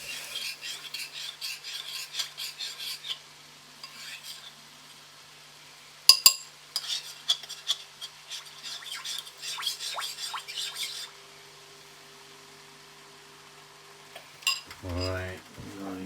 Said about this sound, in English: let's make sure it's got a nice, good stir to it